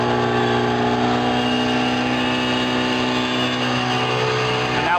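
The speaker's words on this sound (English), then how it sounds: "now product is falling while it's being aerated from those aerators and then being blown down the length of the tank" A pneumatic tank trailer unloads at Michigan City while aerators blow air through the falling product and push it down the tank. The roar is loud and continuous, with a steady droning hum and no pauses.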